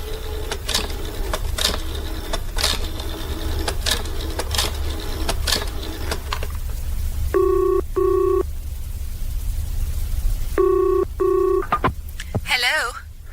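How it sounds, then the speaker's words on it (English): In a radio drama, a telephone rings out in a burst of sharp bells. Then two pairs of electronic dialing tones and a short ringback chirp follow, close and clear over a faint room hum. "I'd better ring the factory before it closes."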